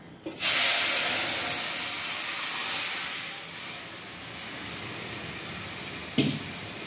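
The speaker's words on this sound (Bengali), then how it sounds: "এবার ওই দই আর বেসনের যে মিশ্রণটা সেটা কড়াইতে দিয়ে দেওয়া হলো" Yogurt and gram flour batter poured into a hot kadai for kadhi sets off a loud, sudden sizzle and hiss of steam that settles into a steady spitting, with a brief clatter near the end.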